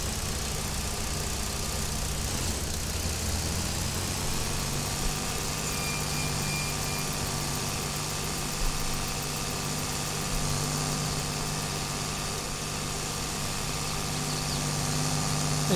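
A tractor engine in Farming Simulator 22 drones steadily at a low idle-like hum, running continuously and evenly throughout with no distinct changes and no talk.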